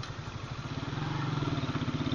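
A motorcycle engine filmed on an action cam while turning on a road, chugging in a close, steady pulsing rhythm that grows slightly louder toward the end, with no voices.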